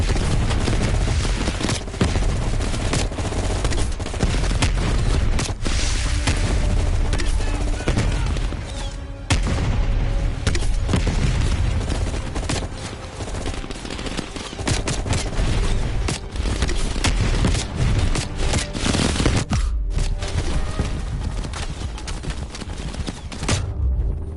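Dense gunfire and bursts of automatic fire crackle without pause through a video game firefight in Call of Duty Black Ops Cold War, with grenade launcher booms mixed in, loud and continuous.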